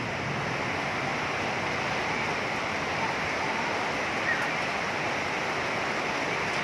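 Heavy rain falls continuously in a constant, even roar of hiss, close and loud, with no pauses and no distinct voices.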